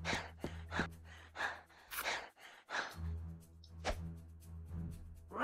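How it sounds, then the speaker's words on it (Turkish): A character in the survival game Skyhill breathes heavily and raggedly, a steady run of sharp gasping inhales and sighing exhales repeating every half second or so, close and loud against a low droning game background. "O ne biçim bir nefes alma sesi ya?"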